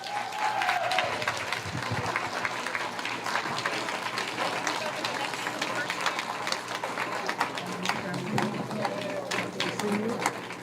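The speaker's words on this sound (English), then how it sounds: "let's give a round of applause for our special guest" An audience applauds, a dense patter of clapping that carries on steadily under a few voices and crowd noise.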